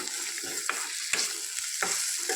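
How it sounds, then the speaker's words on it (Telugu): Ginger and onions fry in a curry pan with a steady sizzle, while a spoon scrapes and stirs in several sharp strokes close by. "ఇలా వేసుకొని ఉల్లిపాయలు అబ్జర్వ్ అయ్యేంత వరకు కలుపుకోండి."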